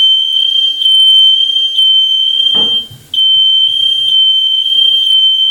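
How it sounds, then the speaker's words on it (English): A smoke alarm set off while mushrooms cook shrieks in a loud, continuous high-pitched tone with brief dips in its pattern, broken once by a short clatter of kitchen noise. "I'll set off the fire alarm."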